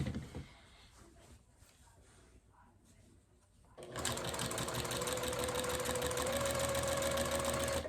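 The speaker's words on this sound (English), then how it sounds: "And we'll just start sewing again." A sewing machine stitching quilt binding starts up after a few seconds of quiet handling, then runs steadily at close range with a loud, even mechanical whir and rapid needle rhythm.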